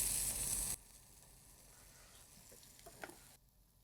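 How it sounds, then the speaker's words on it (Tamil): Thinly sliced onions sauté in oil in a pan with turmeric added, a soft steady sizzle that is louder at first then continues faintly with a few small stirring clicks, no talk. "இப்போ நல்லா வெங்காயம் வதங்கிடுச்சு"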